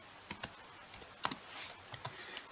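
Code being typed on a computer keyboard, a run of sharp separate keystroke clicks in an uneven rhythm, with one firmer tap standing out and a steady faint hiss beneath, close and fairly quiet.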